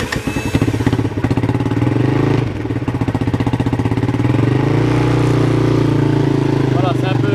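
A Kymco KXR 250 quad is started after standing unused for some time and proves hard to start. The engine cranks briefly, then catches and settles into a steady, loud, close-up running note.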